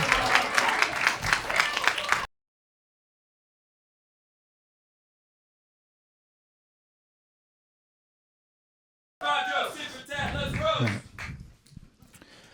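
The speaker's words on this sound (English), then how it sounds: "Everyone clap it up for Menno Fernandez." A brief burst of comedy club audience applause at a roast battle cuts off abruptly into silence; later a voice talks over some lingering noise.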